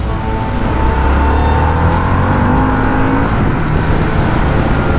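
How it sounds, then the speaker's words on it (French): A 2023 Harley-Davidson Sportster S motorcycle engine roars steadily at high revs, a loud continuous droning whine with shifting pitch, heard up close over rushing wind. "le moteur il est un peu rageur quand même hein"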